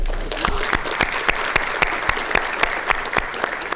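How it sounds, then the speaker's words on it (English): A room claps for award winners at a corporate innovation week event. The applause is sustained and close, with a few louder individual claps punching out at regular intervals. "Also, one more round of applause for all of our Innovator of the Year winners today."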